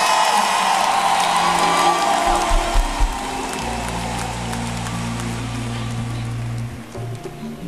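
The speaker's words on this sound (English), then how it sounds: "Are you celebrating or you are clapping?" Church congregation clapping and cheering during a sermon, a loud continuous roar of applause and whoops with low rumbling tones, easing slightly toward the end.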